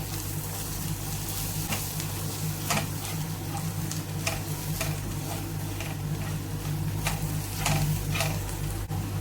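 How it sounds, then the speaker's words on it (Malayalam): Chili powder and turmeric sautéing in a pan while preparing a fish roast: a steady, close sizzle with soft scraping stirs and occasional spoon ticks against the pan, no talking. "മുളകിൻ്റെ പച്ചമണം മറുന്നിടം വരെ ഒന്ന് വഴറ്റിയെടുക്കാം."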